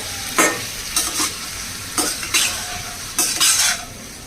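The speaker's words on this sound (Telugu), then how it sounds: "సిమ్లో పెట్టేసి వేగించాలండి మసాలా మాడిపోకుండా నిదానంగా వేగించాలన్నమాట" Masala stir-frying slowly in a pan on low heat for Telugu-style pappucharu, with four bursts of sizzling and scraping as a spoon stirs, moderately close and with no talk.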